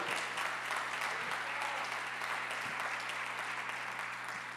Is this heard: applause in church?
yes